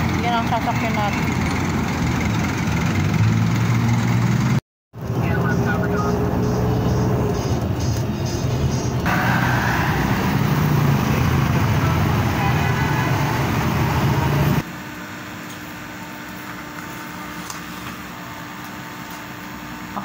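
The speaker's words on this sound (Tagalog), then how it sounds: "Yan ang sasakyan natin." A car engine runs steadily with road and traffic noise around it, a continuous loud hum that drops in level partway through, with people talking over it.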